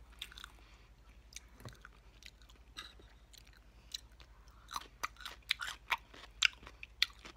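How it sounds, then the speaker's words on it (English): Close, moist chewing of a bite of mushroom, soft irregular squishes and crunches that grow more distinct and rhythmic toward the end. "Last bite of the mushroom."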